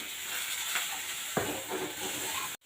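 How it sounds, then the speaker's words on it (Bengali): Katla fish pieces fry in hot oil with a steady, close hiss and sizzle. A brief clink of stirring cuts in midway, then the sound stops abruptly. "ভালো করে এইভাবে তেলে একটু ভেজে নিতে হবে।"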